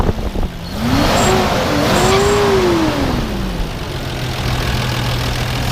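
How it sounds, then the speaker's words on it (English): A 1989 Toyota FJ62 Land Cruiser engine revs up in one smooth rise and fall, then drops back to a steady idle; loud and close, with no voices. "Go ahead and rev it up a little bit."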